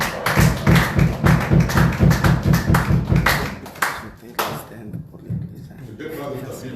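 A church congregation claps loudly and rhythmically in praise during a Bible teaching on Genesis, the beats dense at first and then thinning into scattered claps, with voices mixed in.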